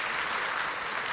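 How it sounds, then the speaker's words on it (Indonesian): Congregation in a church breaks into applause, a dense, even patter of many hands heard briefly at a moderate distance. "Beri tepuk tangan yang meriah buat Tuhan."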